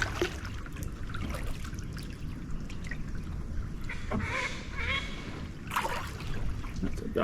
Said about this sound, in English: That's a duck warning me off,